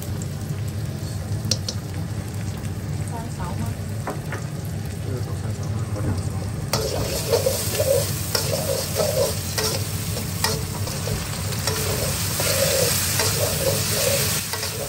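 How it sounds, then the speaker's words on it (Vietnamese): Thinly sliced sweet peppers and carrots stir-fried in a pan, giving a steady close sizzle with repeated scraping stirs throughout, without speech. "Ớt ngọt và cà rốt thì mình sẽ thái mỏng như này ạ, xào một lúc."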